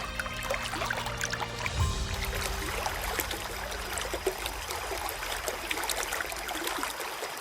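Steady rushing water at the base of a waterfall in grizzly bear country, a continuous broadband wash heard alone, moderately loud and unbroken throughout.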